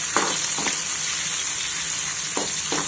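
Chopped tomatoes sautéing in a pan over a low flame give a constant bright sizzle, with a few short scraping stirs of a spoon, close and steady, no voices.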